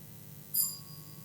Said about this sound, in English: my bell has rung